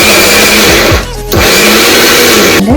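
A kitchen blender grinds bread into crumbs, running loud and close with a steady whirring roar, briefly dipping in pitch mid-run before spinning back up.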